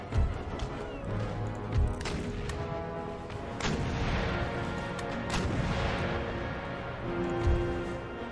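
Naval cannon broadsides from warships in Empire: Total War, heavy booming shots landing irregularly across a dense battle din, with occasional crashes and no clear talk.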